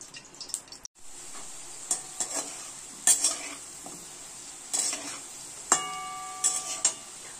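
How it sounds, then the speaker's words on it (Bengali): Chopped potatoes fry in hot oil in a wok, a steady sizzle broken by several sharp clinks and scrapes of a spatula stirring against the metal pan. "এই আলুটা আমি এখন তেলটা গরম হলে আলুটা ভালো করে ভেজে নেব।"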